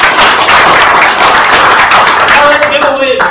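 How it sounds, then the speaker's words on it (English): Audience applause for two speakers at a tech talk on GPU databases, a steady wash of many hands clapping close and loud, with some voices mixed in toward the end. "Want to give a great big round of applause for Ami and Ami"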